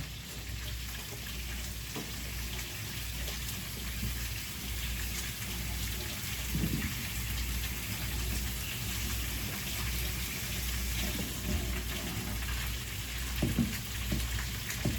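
Water pours steadily into a pot with a continuous close-up splashing rush, an even hiss lasting throughout with a low hum underneath.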